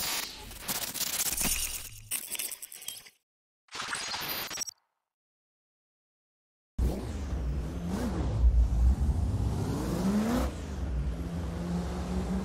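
A V8 engine out of a Formula Drift car, fitted in a BMW M4 G82 drift car in a racing game, revs in choppy bursts, drops to silence, then roars back with sustained high-revving acceleration and rising, falling engine pitch.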